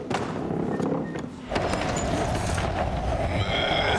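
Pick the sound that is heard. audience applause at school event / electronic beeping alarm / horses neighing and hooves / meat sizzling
horses neighing and hooves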